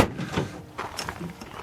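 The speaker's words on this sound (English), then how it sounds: "So let me pop a door here" The door of a custom 1928 Dodge with a Gen III Hemi and steel, bead-rolled door panels is popped open: a few close mechanical clicks and a soft clunk, with someone talking over it.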